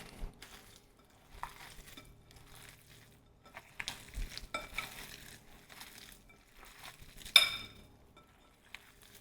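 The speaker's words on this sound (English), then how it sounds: "we're gonna add our bread and buttermilk mixture into our bowl, and then we're just gonna mix this all together" Meatball mixture is stirred and squished in a bowl with soaked bread and buttermilk, giving soft, wet, intermittent mixing sounds. A sharper clink of a utensil against the bowl comes near the end, and there is no talking.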